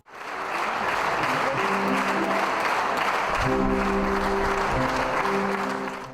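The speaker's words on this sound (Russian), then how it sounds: "Аплодисменты не смолкали." A concert audience in a hall keeps up sustained, dense applause for a soloist, the clapping loud and unbroken from start to finish, with faint sustained tones beneath it.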